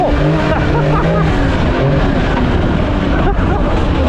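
A new CFMOTO Z10 side-by-side pulls away with a loud, steady engine roar that stays close and constant throughout, with no pause in the drone.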